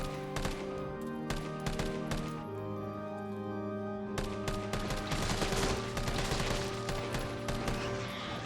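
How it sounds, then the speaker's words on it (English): Assault rifle fire at a hunter in Resident Evil 3, rapid bursts of gunshots cracking repeatedly over several seconds against a droning musical backdrop. "I can stand in the doorway and take shots at the hunter with the assault rifle till it eventually dies"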